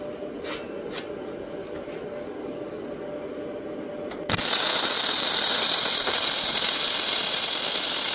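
Unimig Viper Multi 135 welder running a flux core weld, starting with a crackle and settling into a steady loud sizzling hiss that continues to the end after a quieter hum with a few clicks.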